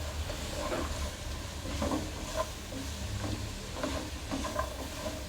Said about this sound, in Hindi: जनाब यहाँ पे हमने 1 से 2 मिनट हमने सब्जियों को जो है अच्छी तरह फ्राई कर लिया है।